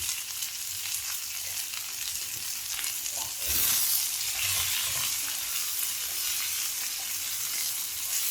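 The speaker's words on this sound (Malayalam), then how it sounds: "ഉള്ളി ഒന്ന് വഴന്നു വന്നിട്ടുണ്ട്" Onions sautéing in a pan for chutney, a continuous sizzle that swells briefly partway through, with faint stirring scrapes.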